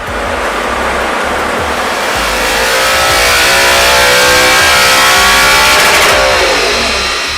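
An Audi R8 V8 fitted with a Capristo exhaust runs on a dyno, its engine holding a loud, sustained roar that climbs steadily in pitch as it revs higher, with no voices over it.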